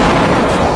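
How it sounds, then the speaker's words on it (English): A flashbang grenade goes off in one loud, wide concussive blast that fills the whole moment with a dense roaring burst. "while the flashbang grenade can be extraordinarily effective"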